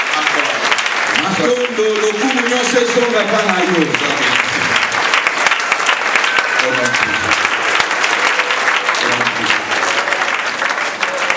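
Steady applause from a large church congregation at a worship service, many hands clapping continuously and loudly, with voices and singing rising over the clapping near the start.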